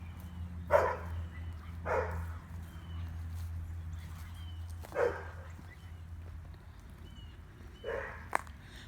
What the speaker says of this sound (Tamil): அந்த நாய் குலைக்கிறது வேறு யாரையும் பார்த்து இல்லை நம்மளை பார்த்து தான்